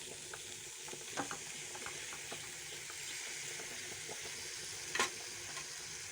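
Grated coconut is stirred into beetroot masala frying in a pan. Soft continuous sizzling runs under scattered scraping strokes of the spoon, with a sharper clink near the end.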